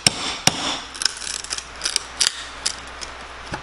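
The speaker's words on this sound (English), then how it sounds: "I'll take a hammer and screwdriver" Irregular sharp knocks of a hammer striking a screwdriver to break wood pieces loose during a window installation, a handful of distinct hits with small rattling taps between them, close and moderately loud.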